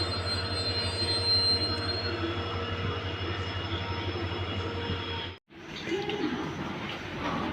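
Train rolling into platform 8 at KSR Bengaluru station, a sustained loud rumble with squealing wheels and a brief dropout near the end.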